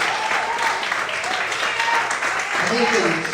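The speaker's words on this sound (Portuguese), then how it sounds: "Quantos podem aplaudir e exaltar ao Senhor nessa noite de hoje?" A church congregation claps and praises during an evening service, a steady sustained roar of applause with voices mixed in throughout.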